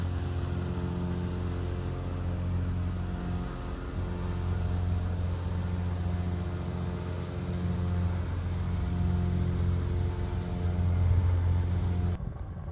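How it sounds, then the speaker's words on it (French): Paramotors drone overhead near a canal in Greece, a steady low engine hum that swells slightly and fades, continuous and moderately loud with no voices. "Derrière, le bruit que vous entendez, il y a des paramoteurs qui se baladent."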